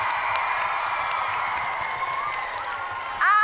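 Audience at a children's book awards ceremony cheering and applauding as an author is welcomed to the stage, a steady wash of clapping and crowd noise throughout, swelling louder near the end.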